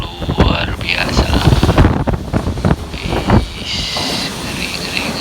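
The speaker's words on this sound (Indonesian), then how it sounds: "Wah, angin begitu luar biasa." Strong gusting wind of Typhoon Mangkhut in Hong Kong, buffeting loudly against the microphone in uneven surges, with a high whistling tone and a voice speaking faintly under the roar.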